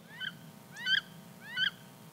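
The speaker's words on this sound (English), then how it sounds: "the female wood duck goes, wee, wee, wee, as you kind of see them fluttering off" Flushed wood ducks give three rising squeaky calls at a steady pace as they flutter off, fairly close over a low background hum.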